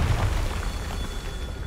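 A Confringo fire spell detonates in Hogwarts Legacy, a loud, heavy boom with a deep low rumble that fades out over under two seconds.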